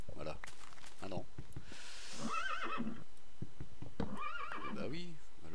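Horses in Minecraft neighing, two distinct whinnies with rising and falling pitch about two seconds apart, loud and close, with a breathy snort between them and someone talking around them.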